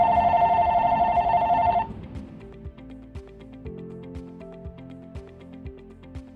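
A VTech IS8251 cordless phone gives a loud, steady electronic ring for about two seconds, then stops, followed by soft intermittent beeps and tones from the handset.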